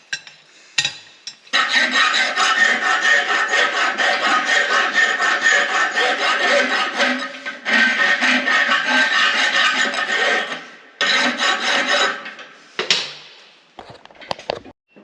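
Steady rasping strokes of a file rounding off the edges of blacksmith V-bit tongs before riveting, loud and close, running in long continuous bursts with brief pauses between them.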